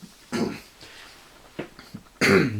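Two sharp coughs, close and fairly loud, separated by quiet breaths and small throat sounds.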